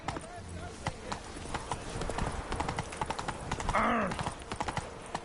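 Roach, a horse in The Witcher 3, trots along in a steady clip-clop of hooves with a short whinny near the end, under game speech and a grunt.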